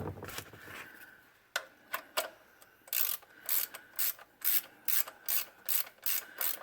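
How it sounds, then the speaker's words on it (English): Ratchet wrench turning the oil drain plug on a Toyota 1.8 liter 1ZZ engine, first a few scattered clicks, then a steady run of about a dozen rhythmic ratcheting bursts, close and clear with no talk. "These ratchet wrenches are awesome."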